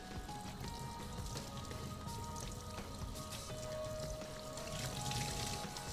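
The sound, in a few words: rinsing a KTM enduro air filter with clean water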